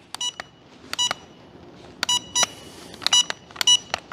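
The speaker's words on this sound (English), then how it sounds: "Oh, it beeped." Short electronic beeps from the transmitter of a YF-350 290mm RC float plane glider, sounding in quick clusters of two or three tones with brief pauses between, close and clear against a quiet background.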